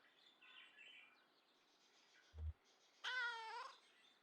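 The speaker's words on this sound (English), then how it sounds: "Nosy meow." A single cat meows in the video game Kentucky Route Zero, a brief rising-falling call following a soft thud, set against quiet, sparse game ambience.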